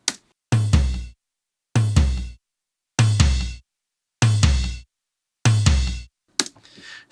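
A drum loop played in five repeated short bursts with silent gaps between them, each a punchy kick-and-snare pattern heard before and after processing through a Brainworx Amek 9099 channel strip plugin, loud and upfront.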